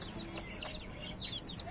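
Chickens cluck softly nearby, with short chirpy calls scattered over a faint, steady farmyard background.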